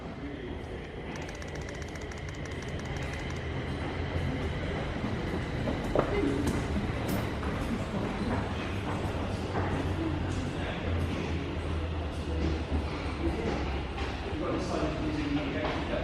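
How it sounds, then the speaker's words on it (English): A train bound for Corby rumbles into a station platform with a low, steady rolling drone and occasional clanks, while people talk faintly over the noise. "the train coming in going back to Corby"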